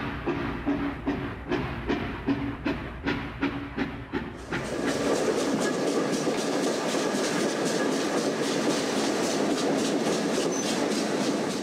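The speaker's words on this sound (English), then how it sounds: "troop trains rolled towards the River Don." A WW2 Soviet troop train rolls along the rails with a rhythmic clickety-clack of wheels over track joints, then settles into a steady, loud rumbling roar.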